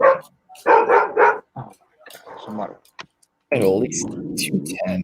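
A dog barks in bursts of several loud, close woofs while people talk over and between them during a Nuggets–Timberwolves basketball game broadcast at home.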